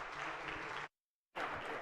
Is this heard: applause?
yes